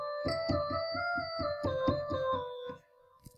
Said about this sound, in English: I selected this one called Glassy FM lead.